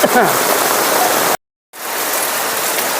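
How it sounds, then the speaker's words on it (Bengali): Heavy rain pours down at a market in Khajura, a loud, dense wash of falling water that cuts out briefly to silence and then resumes just as strongly. "প্রচুর পরিমাণে বৃষ্টি হচ্ছে"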